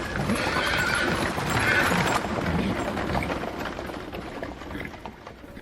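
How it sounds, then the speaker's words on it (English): Horses drawing a war chariot neigh and whinny over the steady clip-clop of hooves, loud and close at first and gradually easing off as the sound fades. "Krishna tugged the reins of his horses and the chariot raced towards the Pandava"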